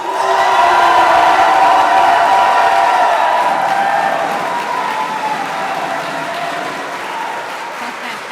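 A large crowd of engineering students roars together, clapping, stamping and hollering in a dense, sustained wall of noise that stays loud throughout and eases only slightly toward the end.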